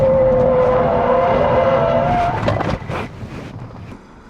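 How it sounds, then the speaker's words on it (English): An electric car skids hard, a long loud sustained tire squeal with a steady tone for about two seconds, then fading into scattered rumbles and scrapes as the car settles. "Let's celebrate with a big skid"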